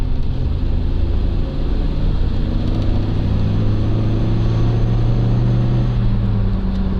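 UAZ Patriot engine pulling under acceleration from inside the cabin, a deep, steady rumbling drone with low-pitched roar that holds evenly loud for the whole stretch, no speech.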